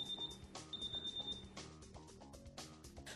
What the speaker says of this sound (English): the exit beeps are sounding as they leave to run an errand